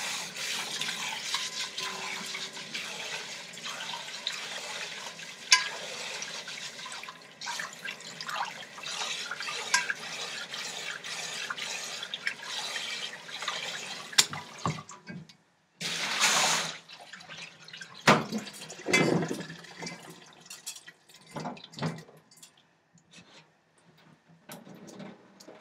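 Japanese rice is rinsed and washed by hand in running water, with continuous faint splashing and swishing, louder bursts of pouring partway through and scattered drips toward the end.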